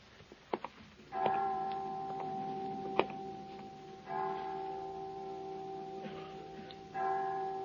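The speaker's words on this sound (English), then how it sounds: "I didn't know the children's home had chimes." Clock chimes at a children's home on a Christmas evening in 1951, ringing out several sustained bell-like tones in succession that linger and overlap, clear and moderately loud with no talk over them.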